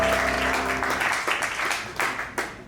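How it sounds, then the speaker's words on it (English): Audience applause at a 2019 awards ceremony, a steady wash of clapping with a few louder claps rising near the end, lasting a few seconds. "please give them a round of applause"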